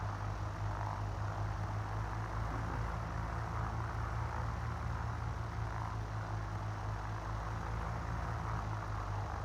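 A Cessna 172N Skyhawk's propeller engine drones steadily at low power as the plane holds on the runway, a constant close hum heard from inside the cabin.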